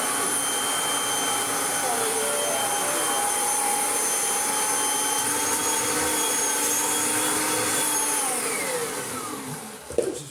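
Kirby Sentria 2 vacuum cleaner with its hose attached, running in a steady loud whine and roar that winds down near the end with a brief clunk.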